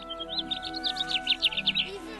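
Small birds chirp around garden nest boxes in cold weather, giving a quick, steady run of high, bright tweets close by with no voices.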